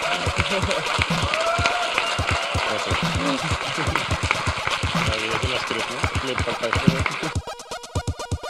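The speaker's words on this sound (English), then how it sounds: "Please a round of applause for him" A conference audience bursts into dense, continuous applause, many hands clapping close and loud together, holding steady for several seconds before thinning out near the end.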